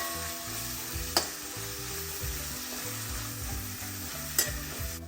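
Ripe banana sautéing in a pan gives a steady, even sizzle throughout, with a couple of sharp utensil taps standing out, and no one speaking.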